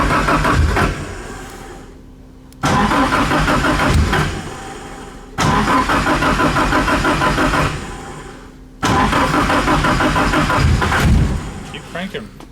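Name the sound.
Datsun 510 SR20DET engine cranking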